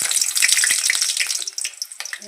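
Masala vada dropping into hot oil and frying, a bright crackling sizzle with bubbling bursts, loud and close, tapering slightly toward the end.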